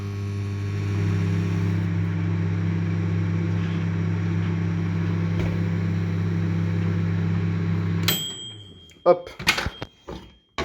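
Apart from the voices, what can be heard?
microwave oven running with skateboard wheels inside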